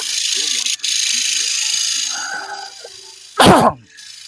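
A single sharp sneeze bursts out near the end, loud and close, after several seconds of steady background noise with faint voices.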